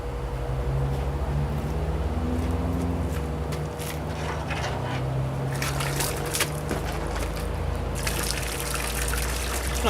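Water pumped through a garden hose, a steady close rush and trickle with some sputtering from air bubbles, running throughout under a constant low motor-like hum.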